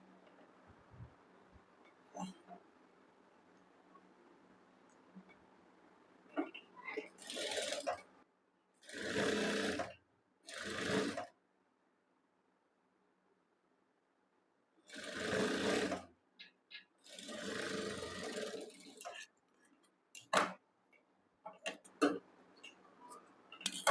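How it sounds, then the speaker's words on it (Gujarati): A sewing machine stitches the neckline lining of a kurti, running in several short bursts of rapid mechanical whirring separated by quiet pauses, close and clear. "પછી ગળા ઉપર એક ફરીથી સિલાઈ લગાડવાની છે"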